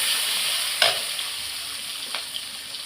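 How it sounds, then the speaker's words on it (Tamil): Turmeric powder and curry leaves sautéing in hot oil, a steady bright sizzle throughout with two brief stirring scrapes, close and alone with no voices. "கொஞ்சமாக மஞ்சள்தூள், கொஞ்சமாக கருவேப்பிலை, வதக்கிக்கிடலாம்."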